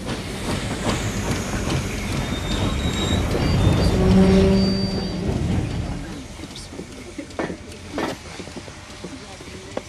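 A steam train stands hissing at a station platform amid the clatter of wagons. Voices and shouted orders carry over the rail noise, which swells in the middle and then gives way to scattered clanks and knocks.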